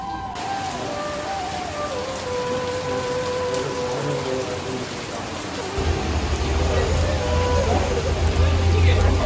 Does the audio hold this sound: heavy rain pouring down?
yes